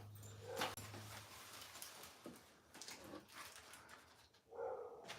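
A small dog barks and whimpers at someone at the door, a few sharp yaps spaced across a quiet room, fairly faint and alone without talk.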